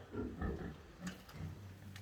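Vietnamese pot-bellied piglets on a farm give a few low, close grunts in short bursts, with brief rustling between them.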